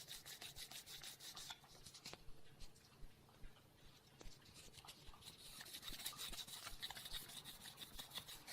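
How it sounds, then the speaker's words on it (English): Sandpaper works along the tempered edge of a knife blade etched in ferric chloride, giving close, steady rubbing strokes that run in a rough rhythm with brief pauses, alone and fairly quiet. "Now I'm starting to sand the temper line."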